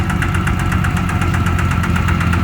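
Engine of a vehicle being driven at a rural work site, a loud, close, steady mechanical drone with a fast regular knocking pulse and no voices.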